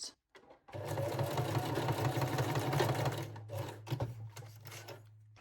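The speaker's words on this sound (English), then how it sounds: "secure the edges with a straight stitch. I am sewing forward and backward." A domestic sewing machine runs a continuous straight stitch on a lingerie bralette, the steady motor whir going forward and backward with brief pauses near the end, close and clear with no talk.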